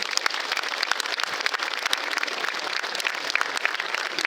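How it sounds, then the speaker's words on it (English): A hall of fame induction ceremony audience for Western Massachusetts baseball gives a steady round of applause, dense and moderately loud, continuing evenly with no speech over it. "Let's give he and his staff a big round of applause."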